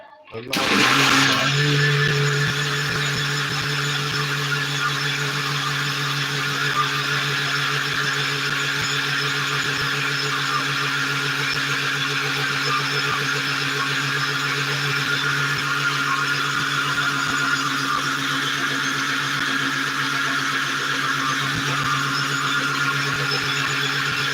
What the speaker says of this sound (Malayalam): ഇനി നമുക്ക് ഇത് ഒട്ടൊന്ന് ജസ്റ്റ് ഒന്ന് അടിക്കാം മിക്സിയിലിട്ടൊന്ന് അടിച്ചിട്ട്